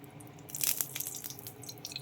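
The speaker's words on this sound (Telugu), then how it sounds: "ఈ ఆయిల్లో కూడా కొంచెం నీళ్ళు పడినాయి అందుకే ఇట్లా టప్టప్లాడుతుంది" Hot oil with a few drops of water in it crackles and pops in a pan with sharp, irregular spatters, loudest early on and then settling into scattered small sizzles.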